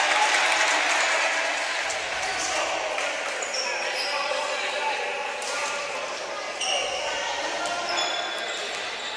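Crowd applause fills a basketball game between Meta Formia and Frassati Ciampino, a steady broad wash of clapping with a commentator talking over it throughout.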